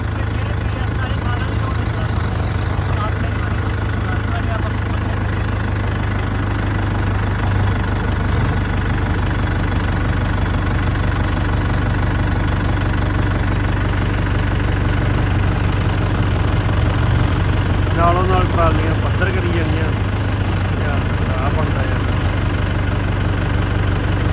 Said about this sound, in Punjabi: ਆਪਣੇ ਟਰੈਕਟਰ ਦੀ ਆਵਾਜ਼ ਧੱਕੜ ਜੀ